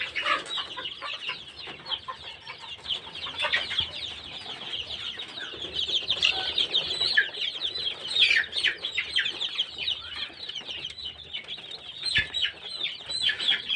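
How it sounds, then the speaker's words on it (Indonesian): Young joper chickens, recovering from colds after medication, cluck and chirp continuously in a brooder, many birds overlapping at close range with some brief wing flapping. "kondisi ayam-ayam yang tadi sudah selesai diberi obat"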